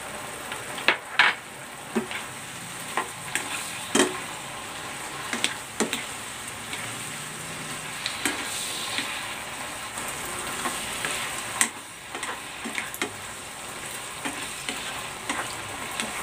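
Kilawing labanos with chili and pepper stir-frying in a pan, a steady sizzle broken by repeated scraping and clacking of the spatula.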